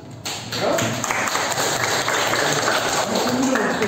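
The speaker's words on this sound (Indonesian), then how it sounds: "Tepuk tangan dulu" A room of attendees at a Pi Network business presentation breaks into steady, dense hand clapping that starts abruptly and carries evenly to the end, fairly close and loud, with a few voices mixed in.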